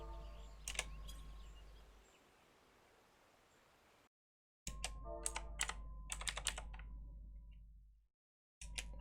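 Clicky keystrokes tap out in irregular bursts on a computer keyboard, close and crisp, with a brief silent gap midway and another near the end over a faint background hiss.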